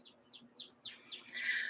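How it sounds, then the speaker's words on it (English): A bird chirps outdoors in a string of short, evenly spaced tweets that build into a brighter, busier twitter, fairly faint with no voices. "I thought I heard my phone. It must have been a bird."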